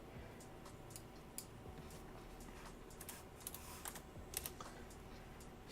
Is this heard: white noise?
no